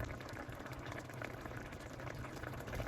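Pork pochero boiling in a pot, a steady dense bubbling simmer that runs evenly throughout at moderate, close range with no voices.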